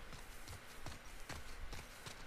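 Horse hooves clip-clop in The Last of Us Part 2, a quiet, steady run of hoof strikes at a walking pace, fairly close and heard alone.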